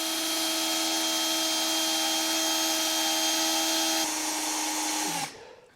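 A power drill bores steadily through pinch welds on a 2024 Chevrolet Equinox during a base plate install. It gives a loud, close, continuous whine that shifts pitch near the end, then winds down and stops.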